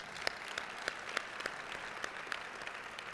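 A crowd applauding steadily, dense overlapping claps with a few sharper individual claps standing out, moderately loud throughout.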